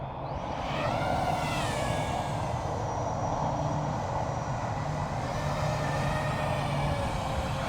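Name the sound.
EMAX BabyHawk II FPV drone flying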